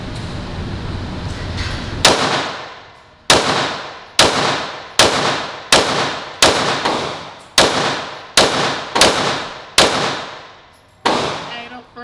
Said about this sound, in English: Hey, the first couple shots is good as hell. 15 pounds is a ticket.